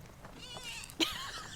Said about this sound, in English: there's randomly a cat outside